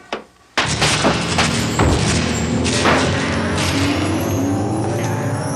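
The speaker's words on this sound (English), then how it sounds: "Cue number 3, rocket landing." Rocket landing effect in a television show, a sudden loud thud followed by a sustained roaring rumble that holds steady and close for several seconds.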